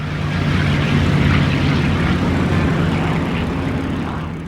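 WWII carrier strike aircraft take off with a steady, loud propeller engine roar that swells and then slowly fades.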